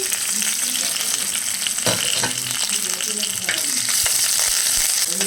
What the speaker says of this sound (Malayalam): ഉലുവ പൊട്ടിക്കഴിഞ്ഞാൽ കറിവേപ്പിലിടണം.